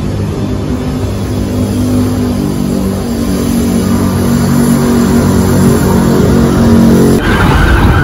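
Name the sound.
jeepney passing on the street, Intramuros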